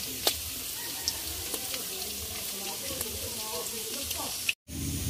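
Onion and garlic frying in a pan, a steady close sizzle with scattered small pops and clinks, ending in a brief gap before the hiss returns.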